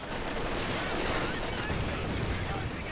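Gunfire and a T-35 tank firing in the Company of Heroes video game form a dense, continuous roar of overlapping shots and blasts, loud and unbroken from start to finish.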